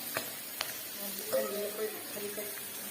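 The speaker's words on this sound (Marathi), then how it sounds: "टोमॅटो टाकलं, हलवून घ्या." Tomatoes frying in a pan and being stirred, with a soft steady sizzle and a few scraping clicks of the spoon, close and fairly quiet, and no speech.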